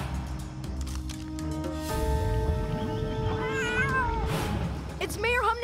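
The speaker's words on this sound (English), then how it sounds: "It's Mayor Humdinger's kittens in that dinosaur costume." Cartoon kittens hidden inside a dinosaur costume meow repeatedly in high, wavering cries, loud and close, mixed with music and other animated sounds as characters speak around them.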